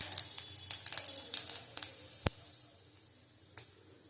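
Panch phoron spices and dried red chillies hitting hot oil, crackling in quick bright pops and a thin hiss, with one louder snap partway through, close and alone.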